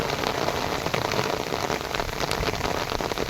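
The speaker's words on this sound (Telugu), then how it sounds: "మళ్ళీ ఎక్కువైంది వాన" Heavy rain pours steadily over village fields where goats are out, a dense, even hiss of drops hitting surfaces, loud and continuous without talk.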